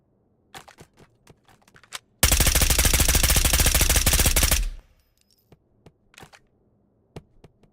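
Automatic gunfire blasting at a wall in the Ghosts of Tabor VR game, a loud rapid burst of about two and a half seconds set between sparse, quieter clicks and handling taps.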